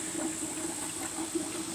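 Water runs by gravity from a nutrient brewer into a riverponics grow system, a steady low trickle and stream close by, with a faint high hum from an aeration or water pump running underneath.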